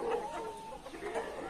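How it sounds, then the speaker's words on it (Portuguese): A young rooster makes faint, breathy crowing attempts and soft clucks amid farmyard background noise, short and moderately distant. "Franguinho novo, começou a cantar esse tempo atrás."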